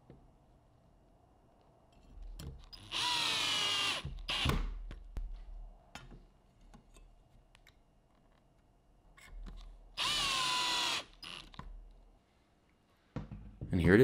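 Power drill driving dark drywall screws into barn wood for a rebar coat and hat rack, two loud sustained whirring bursts of about a second each, separated by quieter handling clicks.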